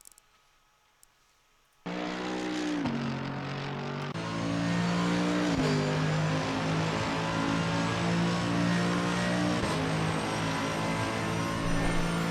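Mercedes-AMG GT3 race car engine in Assetto Corsa Competizione at Paul Ricard, starting from silence then droning loudly and steadily as it accelerates through gears, with distinct shift dips and a sustained high-revving tone throughout.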